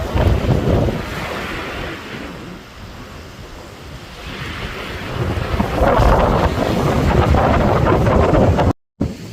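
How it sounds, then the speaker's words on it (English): Strong wind blows sand across a beach on a trail at Sand Point, producing loud, continuous gusting roar and rumble against the microphone, with surf-like swells throughout. "I don't know if you can see how the sand is blowing, but it's really blowing right here"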